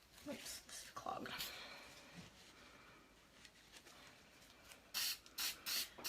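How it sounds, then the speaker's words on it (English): Short hissing spray bursts of edible glaze from a pump can onto fresh flowers, a few scattered early and then four quick ones near the end, with quiet background noise between. "give it a generous spray on the backs of these flowers"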